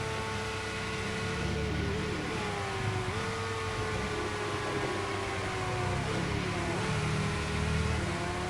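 Race car engine at steady high revs during a hot lap at the Grand Prix China circuit in the Monoposto racing game, a continuous buzzing whine with slight pitch shifts on gear changes and corners, loud and unbroken throughout.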